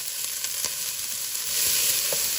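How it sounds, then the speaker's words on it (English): Small diced white onion frying in about two tablespoons of hot oil in a stock pot, a steady close sizzle with a few soft crackles and stirring touches, no talking. "Then I will add 10 ounces of small diced white onion."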